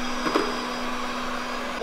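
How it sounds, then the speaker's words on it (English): An automatic robot vacuum cleaner runs with a steady, close whirring hum and a constant motor drone throughout, with no voices. "An automatic vacuum cleaner."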